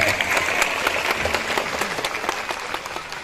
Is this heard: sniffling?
no